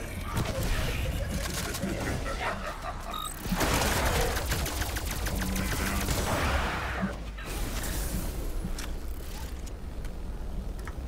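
Rapid gunfire from a Type 63 infrared rifle in Cold War Zombies rattles almost nonstop in loud bursts with brief breaks, mixed with game effects and a voice talking over the shooting.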